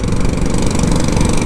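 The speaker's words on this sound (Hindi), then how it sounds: "ओ भाई बुलेट से ज़्यादा आवाज़ तो तू कर रहा है स्कूटर।" A scooter engine revs loudly and steadily up close on a foggy expressway ride, a dense buzzing drone with no talk over it.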